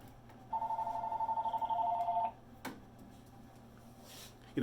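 A telephone rings with a rapid trilling bell, one burst of about two seconds, fairly close, followed by a sharp click and quiet room tone; no talking.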